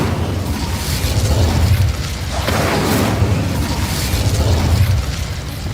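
Incendio fire spell cast in the Hogwarts Legacy video game, a loud roaring burst of flame and crackling blast sweeping through the middle, framed by dense game noise, with no talk.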